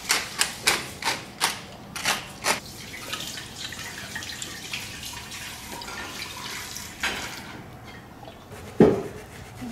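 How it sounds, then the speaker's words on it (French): Pepper mill being turned over a dish of large vegetable-stuffed cannelloni, a run of about eight rhythmic crisp grinding clicks up close, then quieter handling noises and a final clack. "Tour de moulin."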